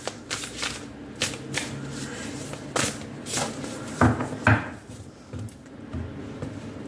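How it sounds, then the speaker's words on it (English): A tarot card deck is loosely shuffled by hand, giving repeated riffling and flapping bursts with short pauses between them, close and alone. "sloppy shuffling."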